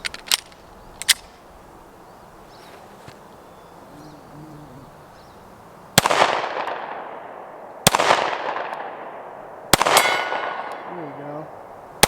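Loud, sharp pistol shots from a Taurus G3c fired at a 60-yard steel silhouette target, three evenly spaced reports with ringing decay outdoors, after quieter clicks and faint murmuring.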